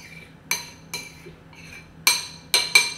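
Spoon stirring chopped garlic and lemon in a bowl clinks against the side in sharp, bright taps, about six strikes in a loose rhythm, close and alone with no talk.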